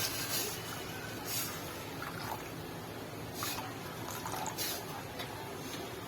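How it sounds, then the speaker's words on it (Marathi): Hot water pours steadily into a cooking pan of spiced curry for several seconds with a soft, continuous splashing rush, fairly close but not loud, with no voices. "गरम पाणी टाकून घेऊया आता।"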